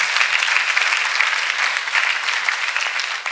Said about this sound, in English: You clap for Master Jesus?